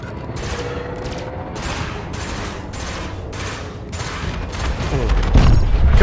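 Spaceship weapons firing in Elite Dangerous: a loud rapid fusillade of repeated laser-like bursts in a steady rhythm, swelling into a heavier rumble at the end.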